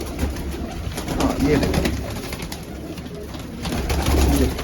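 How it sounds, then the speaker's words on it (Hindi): Soft pigeon coos murmur close by in a quiet setting, while someone speaks briefly over them. "ये वो कबूतर है दोस्तों जिन्होंने मुझे कबूतरबाज बनाया।"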